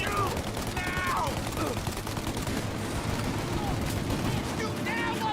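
A police shootout in Mafia: Definitive Edition, with continuous rapid gunfire from several weapons crackling close and loud throughout, and voices faintly mixed in.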